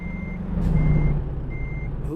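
A big rig in American Truck Simulator backs up with steady, evenly spaced reversing beeps over a low engine rumble, loud and continuous with no voices.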